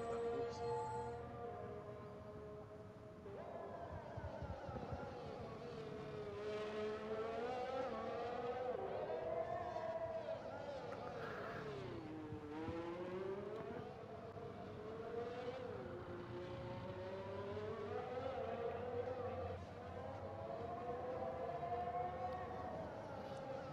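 Formula 1 race cars roar around the Baku street circuit at the Azerbaijan Grand Prix in the F1 2021 video game, the engine note rising and falling through gear shifts and corners, a steady loud drone throughout.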